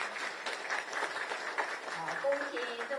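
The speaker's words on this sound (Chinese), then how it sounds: "我们给他热烈鼓掌" Audience applause for the Kuomintang party chairwoman at a temple event, a steady patter of clapping throughout, with a brief voice or tone near the end.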